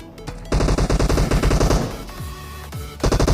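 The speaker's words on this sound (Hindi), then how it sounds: "पहाड़ी की तरफ से भाई बहुत ख़तरनाक फायरिंग हो रही थी" Rapid automatic fire from an M762 rifle in a shooter video game, loud bursts of dense repeated shots with a short pause and a couple of descending tones before firing resumes.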